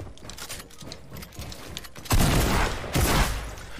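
Video game gunfire in rapid bursts, clattering shots at moderate distance that grow louder and denser partway through, with mechanical clicks between.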